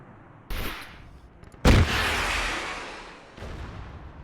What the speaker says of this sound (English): You can't just sit there when you're taking a bunch of tracer fire